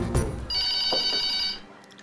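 A telephone bell rings indoors in a Taiwanese television drama, a sustained electronic trill lasting about a second, with a few knocks and movement sounds around it.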